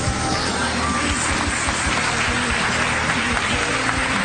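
A church congregation applauding during a Portuguese-language service, loud, dense clapping filling the room with crowd noise and voices mixed in, constant throughout.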